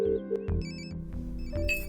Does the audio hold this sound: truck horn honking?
no